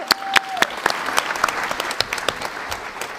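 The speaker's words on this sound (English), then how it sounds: "Can we get a lovely clap for this lovely individual right here?" A fan celebration crowd at San Diego Comic-Con applauds a cosplayer, with individual sharp claps standing out over a steady bed of clapping from many hands at a lively, uneven rhythm.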